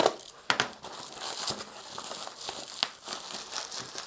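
Soft padded parcel sealed with tape being torn open by hand, a close, steady run of crinkling and crackling plastic with sharp tearing bursts and no talking.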